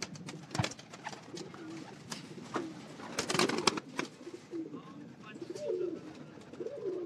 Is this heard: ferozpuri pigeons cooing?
yes